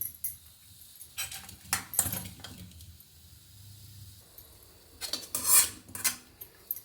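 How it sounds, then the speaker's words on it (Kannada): A spoon clinks against a dish while a tempering is added to a cucumber kosambari salad, with scattered metallic taps and scrapes coming in two busy clusters separated by a quiet pause. "ಈಗ ನಾನು ಒಗ್ಗರಣೆ ಮಾಡಿ ಇಟ್ಕೊಂಡಿದ್ನಲ್ಲ ಅದನ್ನು ಹಾಕ್ಕೊಳ್ತೀನಿ"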